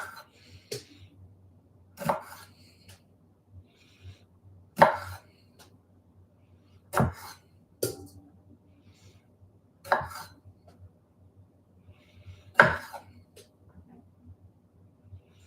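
Tomatoes cut with a knife on a cutting board for pasta salad, about seven sharp, well-spaced chops, close and fairly loud over quiet background, with faint speech-like murmurs between.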